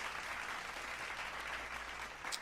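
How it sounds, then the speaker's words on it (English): Studio audience applause for Spider-Man on a sports talk show, a steady continuous wash of clapping at moderate, slightly distant level with no voices over it. "Round of applause for Spider-Man."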